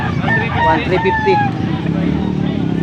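Roosters crow and chickens call amid a busy crowd's chatter and background noise at a poultry market in Pampanga.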